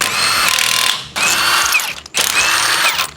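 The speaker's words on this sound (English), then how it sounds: "just gonna take like half the lug nuts off at a time and swap them" Lug nuts on a tow rig wheel being run with an impact or power tool: two long, loud mechanical whirring bursts, split by a short pause, with no talking.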